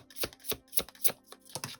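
Tarot cards snap and riffle in short, rhythmic bursts, about six quick taps close by, with no talking.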